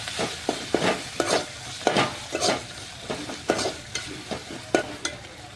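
Kathiyawadi-style methi bhaji (fenugreek leaves) being stirred in a pan, with repeated scraping strokes of a spoon against the metal over a soft, steady sizzle, close and moderately loud, with no talking.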